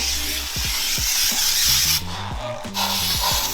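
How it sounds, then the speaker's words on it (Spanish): Contact cleaner sprayed onto a racing motorcycle's brake discs, a steady close hiss that breaks off briefly, over a low rhythmic mechanical thumping. "cogemos el contact cleaner y lo aplicamos tanto en los frenos de disco"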